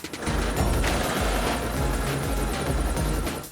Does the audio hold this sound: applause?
no